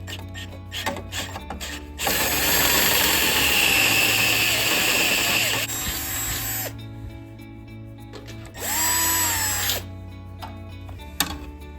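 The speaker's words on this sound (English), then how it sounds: "we're gonna drill out these captive nuts on either side" A power drill whines loudly in two long bursts, grinding through metal captive nuts on a Toyota FJ Cruiser while fitting an ARB bull bar, with quieter clicks and handling noises between and after.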